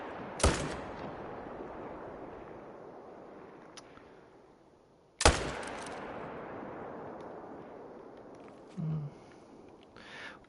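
Two loud rifle shots from a bighorn sheep hunt in theHunter: Call of the Wild, each a sharp crack followed by a long rolling echo, spaced about five seconds apart.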